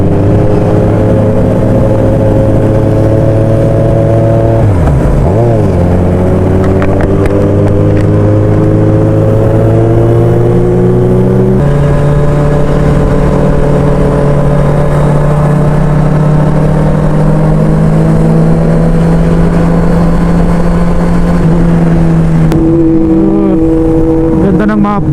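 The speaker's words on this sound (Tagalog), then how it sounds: "Ganda ng muffler niya oh." A motorcycle with an aftermarket exhaust muffler, on a breakfast group ride in Bulacan, revs with loud, steady engine drone and rising and falling pitch, joined by other bikes on the road.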